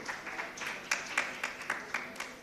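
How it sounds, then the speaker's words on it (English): Audience applause for a team at a medical conference prize announcement, a brief patter of scattered claps, fairly light and a little distant, with a few sharper individual claps standing out. "Big claps for Team A as well."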